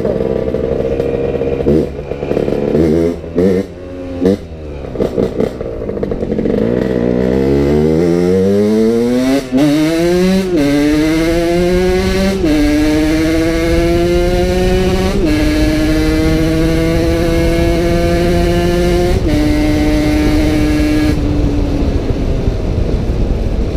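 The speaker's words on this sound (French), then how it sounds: "Il y a un bruit derrière, on aurait cru une Porsche" A high-revving engine, likened to a Porsche, screams behind, its pitch sweeping upward through repeated gear changes, loud and sustained with a sharp whine building over each shift, no voices over it.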